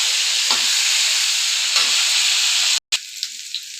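Potato and cauliflower fry in a pan with turmeric and salt, giving a loud, steady sizzle up close. Soft stirring scrapes come through twice, and the sizzle drops sharply for a moment near the end.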